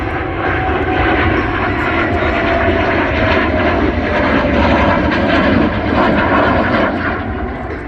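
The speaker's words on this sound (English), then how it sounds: "Captain Haggard Smith sets up for the dirty inverted pass" An aerobatic airplane makes a low inverted pass at an air show, its engine a loud, continuous roar that holds steady throughout with a slight rise and fall, close and dominant.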